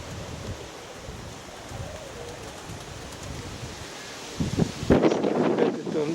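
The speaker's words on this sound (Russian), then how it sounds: "Ветрила." Strong wind roars and buffets the microphone outdoors near an open pigeon loft, a continuous rushing that grows heavier and gustier toward the end.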